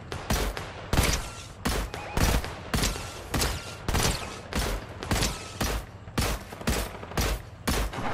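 Rapid gunfire from a Fortnite match, including a scoped assault rifle and sniper shots, cracking out in steady bursts of roughly one to two shots per second across the whole stretch, loud and close with some faint talk underneath.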